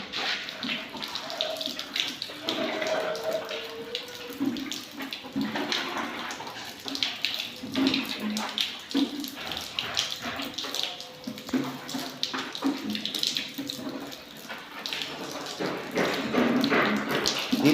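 Water splashes and pours across a floor being wetted before cement is applied for tiling, an uneven run of close sloshing and spattering that continues throughout with no talking.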